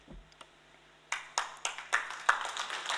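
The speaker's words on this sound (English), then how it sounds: "you are clapping before I say the word" Conference audience applause in a hall, several bursts of clapping building from about a second in, moderately close and steady without talk.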